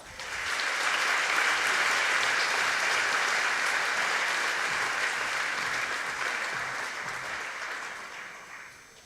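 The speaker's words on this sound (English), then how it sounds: "Please give a round of applause." A large audience applauds together at the Coal Bowl 2023 closing ceremonies, a dense, steady wash of clapping that swells early and holds for about nine seconds before slowly thinning out, with no voices over it.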